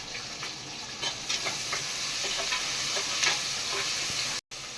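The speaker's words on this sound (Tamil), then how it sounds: "வெங்காயம் நல்லா வெந்துருச்சு." Onions frying in a pan for a vegetable biryani give a steady, bright sizzle with scattered crackles and the occasional scrape of stirring, holding even throughout before a brief dropout near the end.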